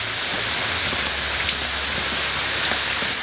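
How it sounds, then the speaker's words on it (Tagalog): Steady rain falls on outdoor surfaces, a dense, even patter close by with scattered sharper drops and a low hum underneath. "So maulan kasi guys, yan oh. Maulan, basa."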